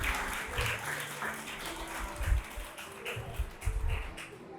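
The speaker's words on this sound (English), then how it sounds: "that's a round of applause" Guests at a nurse's retirement party applaud in a modest round of clapping, with a few louder thumps and taps mixed in, moderately close and continuous.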